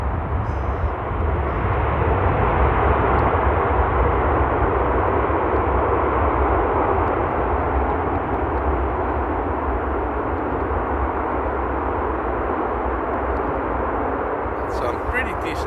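An airliner lands at Amsterdam Airport under loud reverse thrust, a broad, sustained roaring rush close by that holds steady, then eases slightly near the end.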